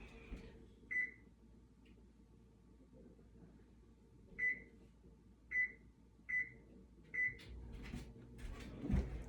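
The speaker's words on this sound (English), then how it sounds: "So I'm going to preheat the oven." An oven being set to preheat for baking cupcakes gives a series of short electronic beeps, one early and then several in quick succession, over a quiet kitchen background with faint handling knocks near the end.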